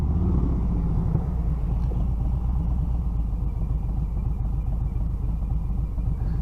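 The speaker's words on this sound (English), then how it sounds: "I can hear the bike running." A motorcycle engine runs steadily while the bike is ridden through traffic, a continuous low rumble with road and wind noise and no break across the whole stretch.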